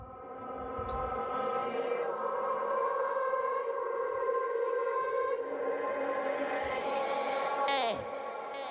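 A heavily reverberant, washed-out sung vocal with a convolution-based ghost reverb effect, long ghostly tails smearing the notes into a sustained, droning haze.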